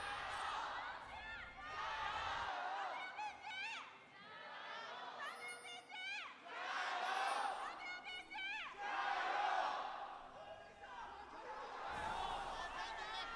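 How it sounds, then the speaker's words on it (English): A large crowd in an LPL esports arena during a playoff match between Bilibili Gaming and WBG erupts in repeated waves of shouting and cheering, loud and dense throughout with rising and falling bursts. "And the crowd descends into its madness after the initial shouts."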